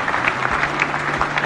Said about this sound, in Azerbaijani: Əl çalın zəhmət olmaz